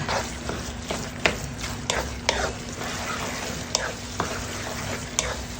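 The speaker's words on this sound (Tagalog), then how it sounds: "Halu-haluin lang natin yan." A spoon scrapes and stirs biko, a sticky rice cake mixture, in a pan with a steady sizzle underneath and a series of sharp scraping strokes at irregular intervals.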